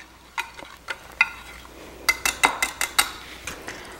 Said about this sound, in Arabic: راح نخلطه